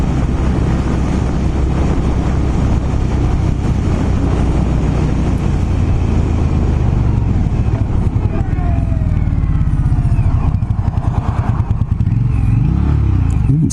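An Indian Scout Bobber motorcycle engine heard while riding, a loud, close, continuous throbbing rumble with wind buffeting the microphone and a shifting pitch near the end.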